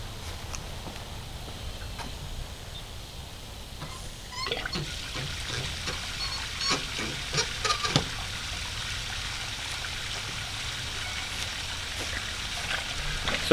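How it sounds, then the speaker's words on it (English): A garden hose runs full blast, flushing water down a sewer line in a front yard, a steady low rushing flow with scattered splashes and clunks partway through, fairly quiet and continuous. "I'm going to turn on the hose full blast here and see if we can wash some of that out."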